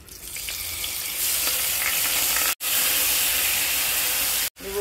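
Mustard paste and green chili paste sizzling in hot oil with kalonji, cooked down for a raw hilsa curry: a loud, bright, continuous frying hiss that swells after a second, broken twice by short silences.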